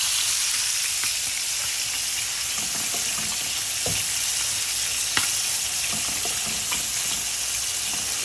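Pieces of coral fish fry lightly in a pan with a loud, even sizzle up close, punctuated by scattered spatters and soft utensil knocks; nobody speaks.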